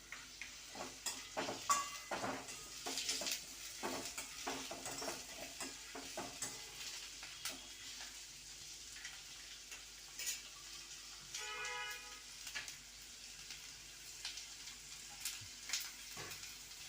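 Onion frying and being stirred in a pan while Manchurian is made at home: a steady sizzle runs underneath, broken by repeated scraping strokes of a spoon against the metal pan.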